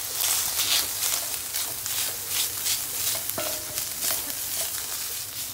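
Minced pork with tomato paste sizzles and spits loudly in a pan while a spatula scrapes and stirs in uneven strokes, with a sharp clink partway through.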